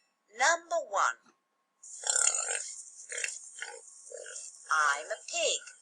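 A voice imitates pig oinks with a few short grunting snorts, followed by squealing, grunting noises mixed with speech.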